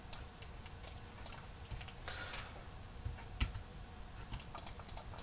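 Computer keyboard keys tapped in a CATIA session, a few faint scattered clicks over quiet room noise, close and soft, no talking.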